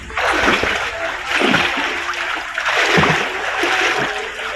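Water from a river or stream splashes and sloshes in repeated heavy surges, close and loud, roughly every second and a half, in Biak na Bato National Park, Philippines.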